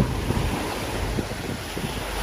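Sea waves at Manila Bay wash in a steady broadband rush under heavy wind buffeting on the microphone, close and loud, with no voices over them.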